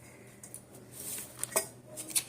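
Ginger and garlic being cut for mango pickle, heard as a few faint, sharp knife taps and clinks on a board, spaced irregularly in a quiet kitchen.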